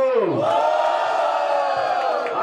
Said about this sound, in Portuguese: Quem acha que o Adilzinho foi mais criativo no terceiro faz barulho?